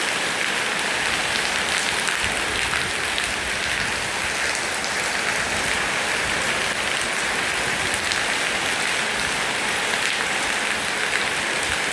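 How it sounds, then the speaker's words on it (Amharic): Heavy rain pours down steadily, a dense, loud hiss of drops pattering on a hard surface close by, with no break throughout. "ኃይለኛ ዝናብ ነው።"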